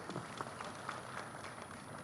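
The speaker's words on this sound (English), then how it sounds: "Can we give the sector a round of applause?" Audience applause at the launch of Uganda's digital transformation roadmap, a soft, distant patter of scattered clapping that stays faint and even for about two seconds.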